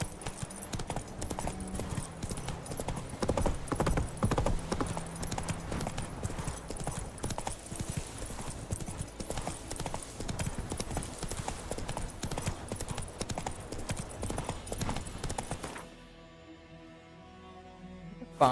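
Roach, the horse in the video game Witcher 3, trots with a steady clip-clop of hooves that lasts most of the clip and then stops.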